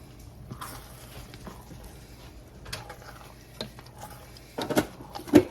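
Baked beans being stirred in a pot, soft intermittent scraping and clinks of a utensil against the pot, growing louder with a few sharp knocks near the end.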